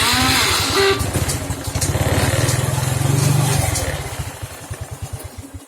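A Honda Revo F1 motorcycle engine starts and idles close by, a loud steady rapid putter with a brief revving swell in the middle, then settling into a slightly uneven idle.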